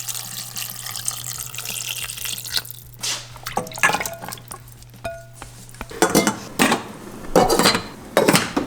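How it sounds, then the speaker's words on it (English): Water sizzles and bubbles as mushrooms sauté in a pan, with scattered clinks of utensils against cookware and occasional louder splashes. "And then we're gonna put a little water in and saute them down."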